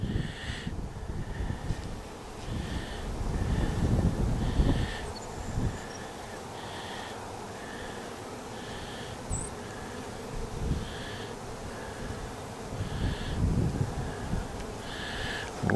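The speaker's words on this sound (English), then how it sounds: "We got a little baby bee, a little fuzzy one." Honeybees buzzing around a hive with a newly emerged fuzzy young bee nearby, a soft continuous drone with repeated nearer buzzing passes, fairly quiet with faint wind.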